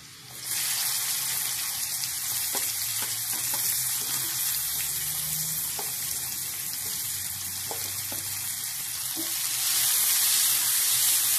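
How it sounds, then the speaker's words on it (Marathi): Onion added to hot oil with garlic and popped mustard seeds in a pan sizzles and fries loudly and steadily, with a few soft clicks of stirring and the hiss swelling near the end. "लसूण थोडासा परतला की आपण कांदा घालूया। हा कांदा घालूया आपण।"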